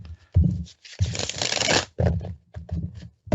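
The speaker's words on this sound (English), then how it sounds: "I'll shuffle them up and take another look at that." Tarot cards being shuffled by hand in short riffling bursts, several quick papery flutters separated by pauses, close and fairly loud.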